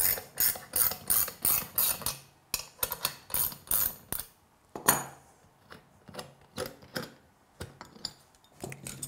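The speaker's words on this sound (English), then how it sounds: "then we can take a 70 mil wrench and open the upper clamp here" A 70 mm wrench loosening the upper clamp on a Pentair Südmo single seat stainless valve on a workbench, heard as a close series of rapid metallic ratcheting clicks in bursts, separated by short pauses and a few lone clanks.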